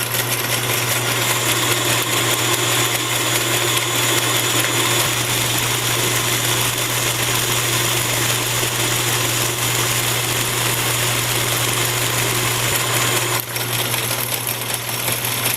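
A diamond crush dresser cuts into a grinding wheel, making a loud, steady grinding roar with a constant hum underneath. It runs unbroken for the whole stretch, with no talking.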